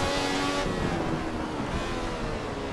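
A Ferrari 312T Formula 1 car engine in the Assetto Corsa racing game screams continuously at high revs toward 12,000 RPM at the Nürburgring, a dense, loud roar with wind-like noise throughout and no pauses.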